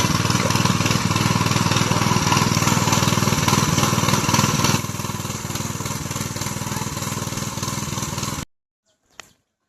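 A power tiller works a rain-soaked field in Konkan, its engine chugging loud and steady for about eight seconds before cutting off abruptly, followed by a brief faint knock.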